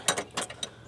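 A ratchet wrench clicks in three or four short, quick bursts while working on the power steering lines of a Pontiac Aztek. The clicks are close and fairly quiet, with no speech.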